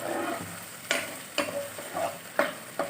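Chili, dark soy and tomato sauces are stirred in a hot pan, a low sizzle under four or five sharp scraping strokes of a spoon at a steady pace, close and clear, no voices.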